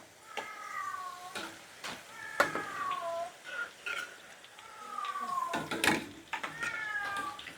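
A cat meows again and again in a kitchen where banana chips are being fried, with repeated plaintive meows close by and light clinks of kitchenware between them.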